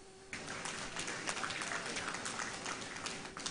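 Applause at a public event at the Kugbo bus terminal construction site in Abuja for the FCT Minister, a steady crowd clapping that rises abruptly and carries on for several seconds, faint and distant.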